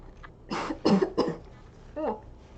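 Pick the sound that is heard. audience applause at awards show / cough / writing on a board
cough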